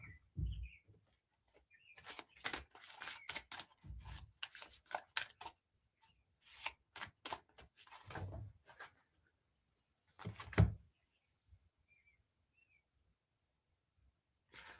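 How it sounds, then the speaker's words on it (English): Tarot cards being shuffled by hand at close range in a quiet room, a run of crisp riffling and sliding bursts with short pauses between them and no talk. "I'm just sitting here shuffling and one card fell out"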